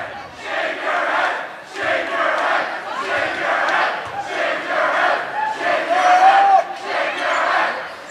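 Salem fans at a high school boys basketball game chant in a loud, rhythmic crowd cadence, repeated phrases rising and falling in a packed gym.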